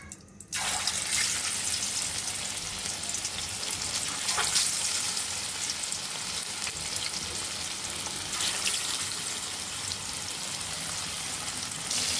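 Pieces of bighead carp fish fry in hot oil in a wok, giving a steady, loud hiss and sizzle that runs almost the whole way after a brief quiet start, with no voices.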